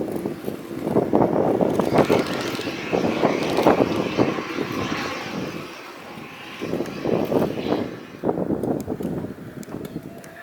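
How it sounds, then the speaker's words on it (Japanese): A Korean government jet taxis at Haneda Airport behind a follow-me car, its engines whining and rumbling at moderate distance in a steady drone that swells and eases for about ten seconds. "飛行機は黄色いフォローミーカーに先導されて、第2ターミナル北側のビッグスポットまで走行していきます"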